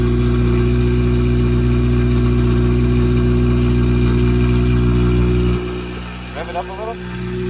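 A Honda Civic Si with a K20Z1 engine swap and J-Cab exhaust idles with a steady low drone, close and loud, then drops quieter near the end as a voice briefly speaks.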